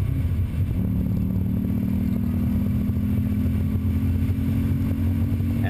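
Race cars at Auto Club Speedway during a NASA track session, a loud, steady engine drone with a sustained tonal whine holding throughout, close and uninterrupted with no talking.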